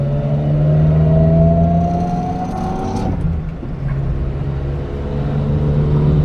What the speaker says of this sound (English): Listen to that exhaust note.